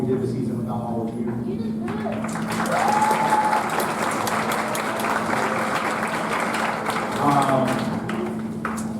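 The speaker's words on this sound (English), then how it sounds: "The students and I want to give you all a round of applause" Sustained audience applause at a band winter concert, a steady wash of clapping from a large crowd in a hall, with a few faint voices mixed in.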